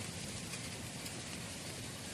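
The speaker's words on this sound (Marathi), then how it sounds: "हे बघा कसा पाऊस येत आहे." Unseasonal rain falling steadily outdoors near mango trees and wheat fields, a dense, even hiss of rain without a break.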